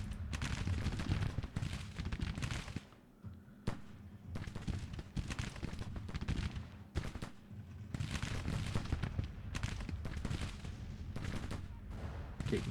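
Massed rifle and infantry volleys in Grand Tactician, a dense, continuous crackle of musketry with overlapping shots and rolling booms, loud and sustained with brief lulls, no talk.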